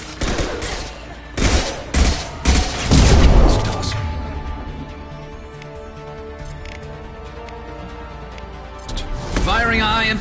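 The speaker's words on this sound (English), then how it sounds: "Firing a high-impact shot." Heavy gunshots and booming impacts from combat in the Mass Effect 2 video game, a cluster of loud blasts early on, then a low ringing tail, with a voice speaking over parts of it.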